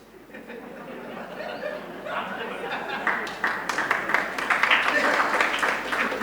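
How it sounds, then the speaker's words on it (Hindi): Scattered clapping from an audience at a spiritual discourse session, starting thin and building into fuller applause mixed with chatter and light laughter from the crowd. "एक डॉक्टर ताली बजा दे"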